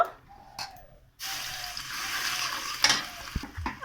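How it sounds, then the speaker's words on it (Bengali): Garlic dropped into a hot kadai for chicken curry, with a sudden burst of sizzling frying after a quiet start, continuing steadily with a few scraping clicks of a utensil. "তারপর কড়াইতে রসুন দেব"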